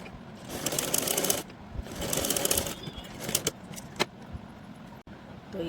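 A sewing machine stitches a fabric strip for a Laddu Gopal dress in two loud close bursts, followed by softer handling clicks and rustles.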